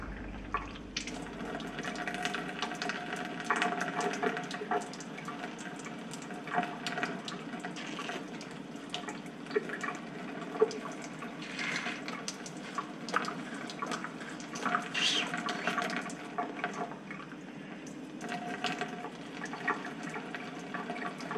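An emptied eggshell is rinsed under running tap water, producing a continuous soft splashing and trickling with small irregular spikes, fairly quiet and without voices.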